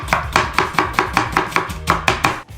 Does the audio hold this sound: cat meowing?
no